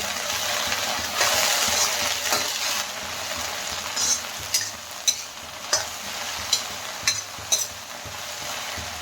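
Okra fry with turmeric is stirred in a pan, with a steady soft sizzle and a run of sharp, evenly spaced spoon scrapes and clinks in the second half.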